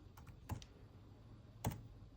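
Keys on a MacBook keyboard being tapped, with a few light clicks spread across a quiet moment, close and faint, with no talking.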